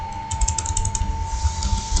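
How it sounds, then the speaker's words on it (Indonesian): Typing on a computer keyboard while entering commands for Cisco network configuration, a steady run of close, quick key clicks over a low background hum. "Kita ketikkan"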